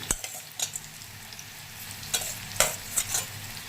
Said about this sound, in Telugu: స్లో పెట్టి బాగా వేయించాలి